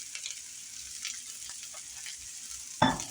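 Onions and garlic sauté in a pan for Hungarian chicken. A faint, soft sizzle with light scattered stirring sounds runs under a brief louder clatter near the end, and nobody speaks.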